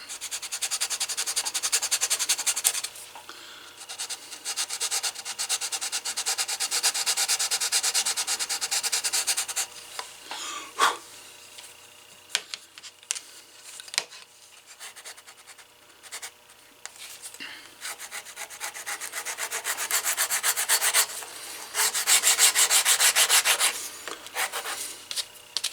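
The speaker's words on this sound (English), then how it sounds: "So I'm just going to go ahead, scuff all this up, and we'll use some contact cement." Sandpaper scuffs a hammer handle in preparation for wrapping, a close, steady rubbing rasp in long strokes that eases off midway before returning strong, with faint speech in the background.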